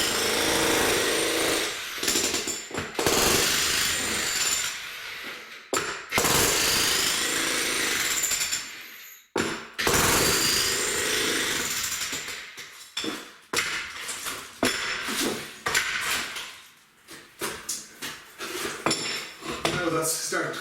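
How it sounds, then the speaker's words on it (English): An old cottage floor being taken up bit by bit with a tool, loud rapid hammering and clattering in bursts with short pauses, plus scraping and breaking of material, no talking. "start taking out this floor bit by bit"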